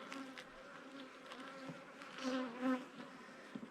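Honeybees buzz inside an opened hive that has become drone-laying, a soft, steady hum close by with a few louder swells as individual bees pass near, and no talking.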